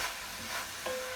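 Bell pepper, chili pepper and lime leaves for a vegan curry are stirred in a hot pan, a soft continuous sizzle with faint scraping, quiet and steady with no talking.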